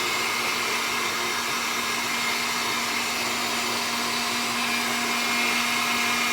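Egg whites being whipped into a froth for meringues give off a steady, loud, unbroken whirring hum that holds an even level throughout, with no voices.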